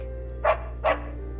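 A dog gives two short barks about half a second apart in the video game Psychonauts 2, clear over a quiet low hum.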